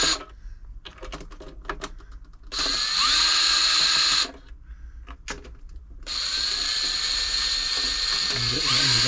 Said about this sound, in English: Use a screwdriver on there.